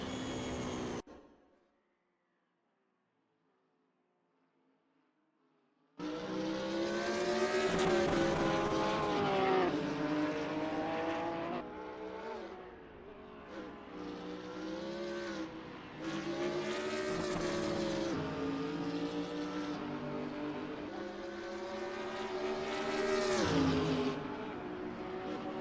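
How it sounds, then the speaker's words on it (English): GT3 race cars lapping the Barcelona circuit in a racing video game: loud engines roar and rise and fall through gear changes after a short silent gap, continuing at high revs. "NOC Zide from Spain is 7th, driving a Porsche 911 GT3R."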